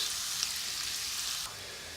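Onions fry in a pan for a vegetable curry, giving a steady, close hiss of sizzling. The sound stays even for most of the clip, then drops slightly quieter near the end. No one speaks.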